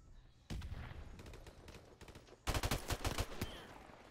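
Rapid bursts of gunfire in a competitive Call of Duty: Modern Warfare Remastered match, quiet, crackling volleys in two clusters, the second denser and louder.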